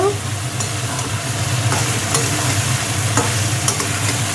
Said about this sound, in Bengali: মাংস বসানো হচ্ছে আলুগুলো চলে গেল